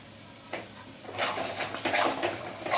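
Fish is mixed in oil in a pan for a Bihari-style curry: a metal utensil clinks and scrapes against the pan, growing louder and busier after the first second, with a soft sizzle underneath.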